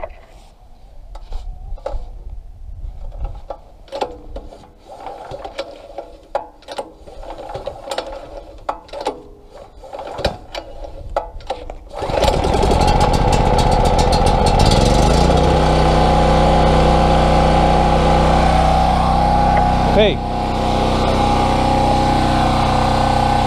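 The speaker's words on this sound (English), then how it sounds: "I'm just gonna give this a couple pulls here, a couple priming pulls just to fill the carburetor." A Champion generator, run dry, takes a series of sharp recoil-starter pulls that prime its carburetor, then the engine catches and runs at a loud, steady roar until the end.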